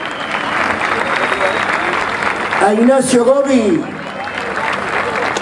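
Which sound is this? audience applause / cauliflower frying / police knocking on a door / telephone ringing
audience applause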